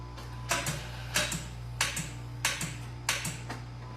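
A faulty starter solenoid on a 2016 Jeep Compass clicks in even pairs, a quick double tick roughly every half second or so, above a steady low hum.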